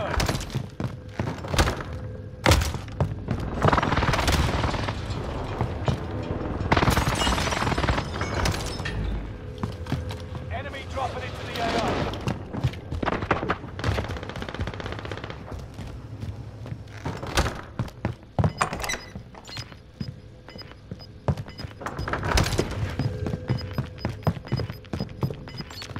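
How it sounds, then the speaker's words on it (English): Precision airstrike explosions in Call of Duty Warzone on Rebirth Island come as a long barrage of heavy booms and crashing impacts, loud and continuous, with sharp cracks and rumbling blasts overlapping throughout. "Enemy precision airstrike."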